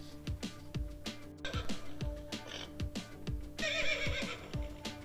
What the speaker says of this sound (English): Sound which horse makes, we call it neigh neigh.